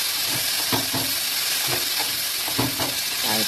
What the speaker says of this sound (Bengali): ভালো করে ভাজা ভাজা করে নিতে হবে।